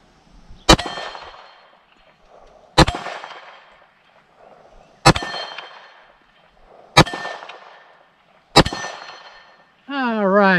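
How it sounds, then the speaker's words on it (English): Five .40 S&W shots from a Beretta 96 pistol strike a steel MGM Targets gong, each a sharp crack followed by a ringing metallic clang, evenly spaced about two seconds apart and loud and close. "Let's go for the MGM Targets Gong here."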